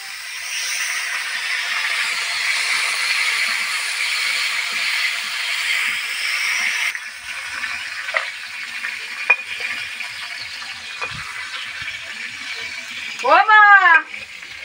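Stingray fish frying in oil with salt and turmeric gives a loud, steady sizzling hiss for several seconds, then quieter crackling and pops, with a brief exclamation from a speaker near the end.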